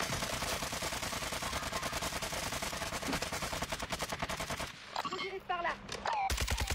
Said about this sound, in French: J'ai pris une balle de sniper.